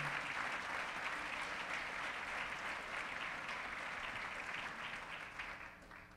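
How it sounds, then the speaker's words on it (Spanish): Sustained applause from the audience at a national agricultural council general assembly, dense and even, fading slightly toward the end. "Reconocemos este esfuerzo con un fuerte aplauso."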